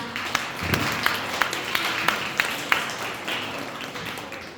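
Audience applause at a youth film festival awards ceremony in Gimpo, a scattered patter of claps with sharp individual hits, fairly faint and continuous.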